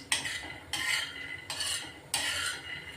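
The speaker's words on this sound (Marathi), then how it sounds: "शेंगदाणे ना स्लो गॅसवर भाजायचे छान भाजले जातात खरपूस" Peanuts dry-roasting in a pan over a low gas flame, stirred in four distinct scraping sweeps with a gritty, rattling texture, each stroke followed by a short pause, close and moderately loud, no voices.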